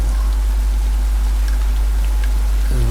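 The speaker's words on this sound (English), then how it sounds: "It's raining pretty hard." Heavy rain pours in the video game The Last of Us Part 2, a dense constant hiss of drops over a loud low hum, steady throughout without speech.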